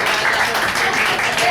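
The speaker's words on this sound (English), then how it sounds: "How about a round of applause for the girls that Blake fucked that are here?" Audience at a live comedy roast at Cafe Diem in Richmond applauds, a dense, steady wash of clapping filling the short moment with voices mixed in.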